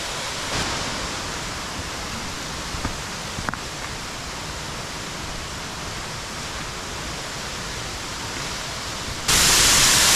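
Binderee Falls in Victoria's High Country pours steadily as a broad, unbroken rushing roar heard from close by behind the falling water on a rainy day, with a sudden louder hiss near the end.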